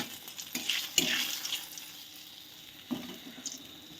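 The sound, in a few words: bay leaf and dried chilli frying in oil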